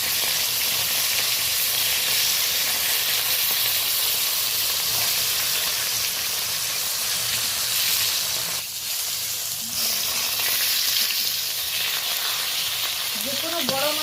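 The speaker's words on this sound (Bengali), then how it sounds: "আর একটা দিক আমি ভালো করে ভেজে নেব।" Japanese puti fish, a pond-raised carp, fries in a pan with a loud, steady sizzle and hiss that runs unbroken throughout, dipping briefly midway as it is turned to brown the second side.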